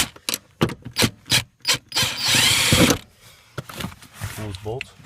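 A power tool works loose the seat bracket bolts on a VW Touareg in a workshop, sounding as short repeated bursts and then one sustained whirring run, close and loud, with someone talking in between.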